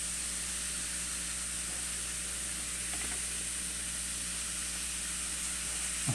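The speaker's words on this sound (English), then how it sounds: "Yeah, let it fizz on that side." An LOL Pearl Surprise toy fizzes in water, giving a steady, close, even hiss that holds without a break, with no talking.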